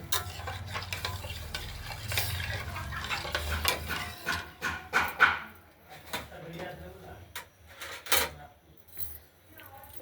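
Sugar being stirred into moong dal in a pressure cooker pot, heard as soft scraping and clinking strokes of a spoon over a light sizzle, close by, with a voice talking over parts of it.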